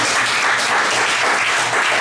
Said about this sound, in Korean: 박수 한번 줘.